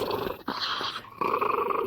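A pet dog growls contentedly in a long, rough, rumbling purr-like growl, close and fairly loud, broken by a brief pause partway through, with no talking over it.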